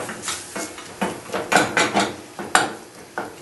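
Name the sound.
stirring minced beef in a frying pan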